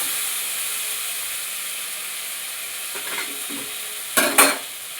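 Ridge gourd, pointed gourd and potato being sautéed with spices in a wok, a steady hissing sizzle with a few louder scraping stirs toward the end.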